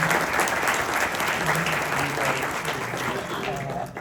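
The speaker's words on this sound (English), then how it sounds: "I want to give the panel a round of applause." An audience applauds a panel on veteran retention with a dense, even wash of clapping that continues steadily and tapers slightly at the close.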